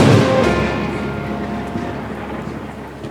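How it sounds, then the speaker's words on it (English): Thunder during rain: a loud, deep rumble that swells at the start and slowly fades over a steady wash of rain, with no voices. "There's even thunder now."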